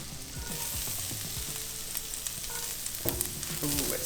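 Garlic sizzling on a hot griddle, a continuous close crackling fry with scattered pops and a spatula scraping across the surface near the end, loud and steady with no voices.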